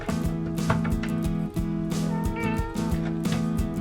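Pet cat meowing, a drawn-out plaintive call heard over steady rhythmic background music, moderately faint and without talk.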